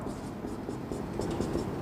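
Someone writes out a quantum mechanics equation on the Born approximation, making soft scratchy strokes under a speaking voice.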